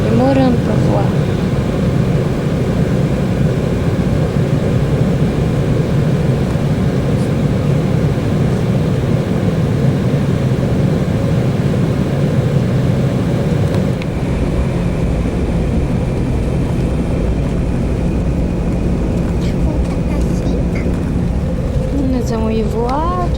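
Inside an airplane cabin waiting to take off on a first flight to Porto Alegre, a loud, steady engine and air-system drone runs throughout, with faint voices underneath.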